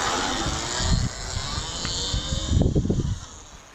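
An Artisan ES1-Pro electric supermoto motorcycle rides along with a low whir, rushing wind noise and bumpy low rumbles, fairly close and fading slightly at the end.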